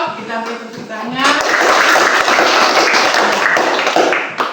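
Classroom students clap for group 3 after its discussion presentation, applause swelling from sparse taps to a loud, steady patter that continues for several seconds, with voices mixed in.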